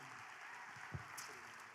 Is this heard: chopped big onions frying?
no